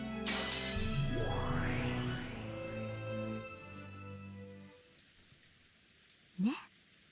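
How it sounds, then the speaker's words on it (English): Glass shattering effect in the Umineko visual novel, a bright crash followed by tinkling debris over a tonal music bed that fades, then one short sharp accent near the end. "The glass breaking sound makes it even more uncomfortable"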